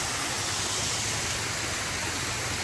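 Small stream pouring steadily at a waterfall park, a dense, even rush of water that stays close and loud without a break, with no voices over it.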